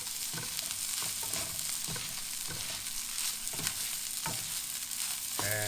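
Smoked fish fried rice with scallions sizzles steadily in a hot pan while a utensil scrapes and tosses it in regular strokes, a continuous close frying hiss with no talking.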